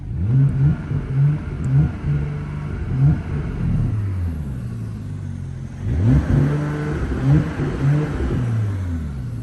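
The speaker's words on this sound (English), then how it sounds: "put it into sport mode here with this button right here and give it a couple revs" A 2020 Porsche Panamera engine in sport mode, parked, revs up sharply several times against a limiter near 3,000 RPM, rising and falling in bursts with a deep rumble between them.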